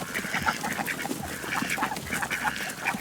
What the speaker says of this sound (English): In this little cage here are all the new ducklings.